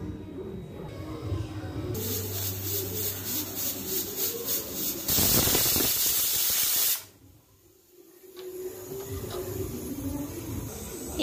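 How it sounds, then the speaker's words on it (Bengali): A pressure cooker on the stove lets off steam in a loud, sustained hiss that swells into a sharp whistle-like blast, then cuts off abruptly before a quieter hiss returns. "আর জল দিয়ে প্রেসার কুকারে একটা সিটি মেরে নেব।"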